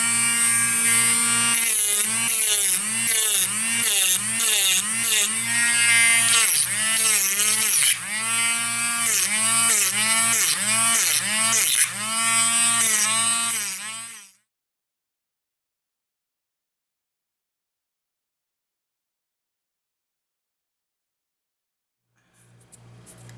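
A Sina electric nail drill filing acrylic whirs loud and close with a high buzzing tone that rises and falls as it bites, then stops abruptly into silence before a brief faint restart.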